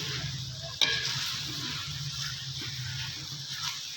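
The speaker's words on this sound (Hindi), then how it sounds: "तो इसको अच्छे तरीके से भुनेंगे, ये देख सकते हैं आप।" Chicken frying in a small amount of ghee while being stirred, a steady close sizzle with scraping of the spoon, one sharp knock near the start, no voices.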